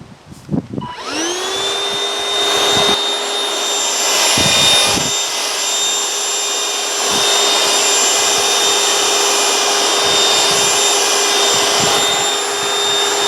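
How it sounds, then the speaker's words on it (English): A vacuum cleaner whirs up to full power after a brief clatter, then drones steadily and loudly with a high whine, no voices. "we'll go ahead and vacuum as much of this as possible"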